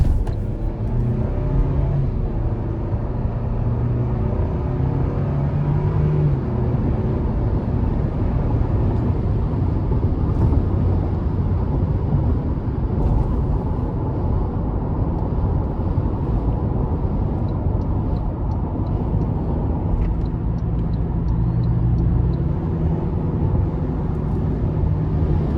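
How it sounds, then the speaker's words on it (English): A 2024 Toyota Tacoma SR pickup with a 2.4-litre turbocharged four-cylinder accelerates hard from inside the cab, a loud, steady engine drone and road rumble that holds throughout with no talk. "So very good acceleration, of course. It's a turbocharged 4-cylinder."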